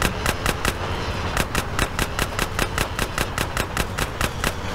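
Rapid automatic gunfire in GTA San Andreas, a loud steady stream of evenly spaced shots rattling off for the whole stretch with only brief breaks.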